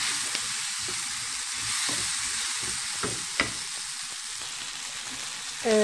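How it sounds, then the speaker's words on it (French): Salted onions and peppers fry in a pan for rice with peppers and crème fraîche, a constant close sizzle broken by a few sharp scrapes and taps of stirring. "Donc je mets sel et je mélange."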